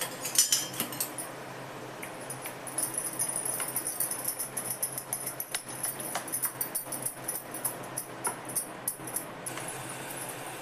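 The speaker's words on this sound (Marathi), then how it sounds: "आता हे चांगलं सगळं मिक्स करून घेते" Spoon scraping and clinking against a bowl while mung bean and rice batter is mixed with baking soda for appe, steady rapid stirring strokes with bright metallic ticks throughout, no talking.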